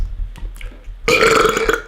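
A single loud, drawn-out burp close to the mic, rough and buzzy, following a few quiet breathy sounds.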